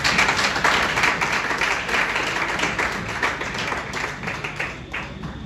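A church congregation claps and applauds in praise, steady dense clapping from many hands filling the room throughout, gradually easing slightly toward the end.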